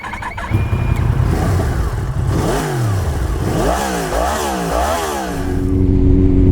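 A 2006 Honda CB1300 motorcycle engine runs close and loud, revving up and down in several rising and falling surges before settling into a steady drone around 3,000 rpm.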